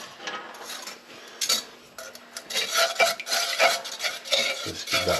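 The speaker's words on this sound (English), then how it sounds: "Let's give that a stir." Custard being stirred in a pan with a spoon, a steady scraping and rubbing rhythm with occasional clinks against the metal, close and fairly loud with no talking.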